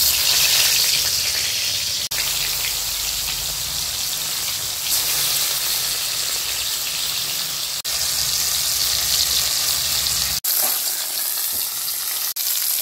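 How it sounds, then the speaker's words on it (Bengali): Fish seasoned with salt and turmeric sizzles steadily in hot oil, a continuous loud crackling hiss with a few sharp pops, no voices. "এখন মাছটা ভেজে নেব"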